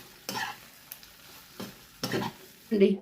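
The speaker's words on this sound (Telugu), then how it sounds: "ఇలా ఈ మసాలాలో వేయగానే దీనికోసం కలుపుకొని గ్యాస్ బంద్ చేసేయాలి" Fried gobi manchurian is stirred into masala in a pan, several short scraping, sizzling stirs spaced about half a second to a second apart, close and moderately loud, the last one the strongest.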